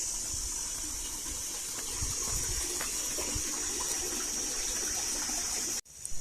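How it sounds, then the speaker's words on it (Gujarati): Steady water gushing from a motor-driven pump filling a tank at a farm, a continuous close rushing flow that runs evenly for several seconds before cutting off abruptly near the end. "આપણે કુંડાની મોટર પણ ચાલુ કરી દીધી."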